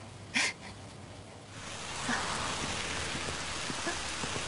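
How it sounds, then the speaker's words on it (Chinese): Rain begins falling outdoors, building after a brief sharp thump into a steady, fairly close hiss of drops on surfaces, with no talk. "下雨了。"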